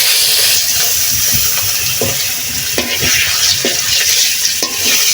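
Marinated pieces of a large pangasius fish fry in hot oil, a dense close hiss broken by a few soft knocks and scrapes as they are moved in the pan.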